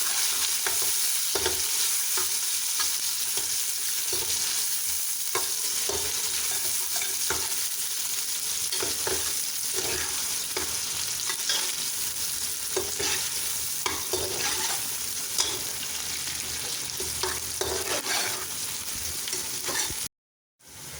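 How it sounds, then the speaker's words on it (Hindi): Onions frying in a pan, stirred as they turn light brown: a continuous loud sizzle with repeated scraping strokes of a spoon throughout, alone without talk. "प्याज को हम हल्का ब्राउन करेंगे।"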